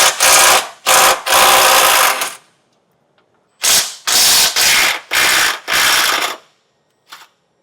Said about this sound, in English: We're gonna have 4 18mm nuts to remove on both sides. So let's get our socket up in there